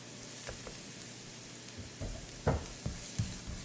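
Five garlic cloves dropped into a pan of frying onion for a meatloaf, a soft sizzle that starts quiet and then gives a few louder spits and stirring knocks near the end.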